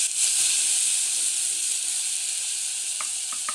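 Grated carrot sizzles steadily in hot oil with asafoetida for a carrot curry, a dense, even frying hiss that holds for the whole stretch, with a few faint stirring clicks near the end.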